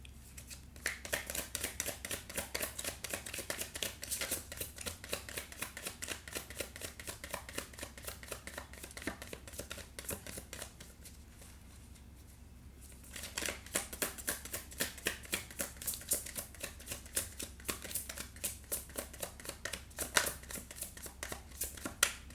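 Tarot cards are shuffled by hand in a steady, rapid papery riffle that runs almost the whole time. There is a brief quieter pause midway before the shuffling resumes, close and fairly soft.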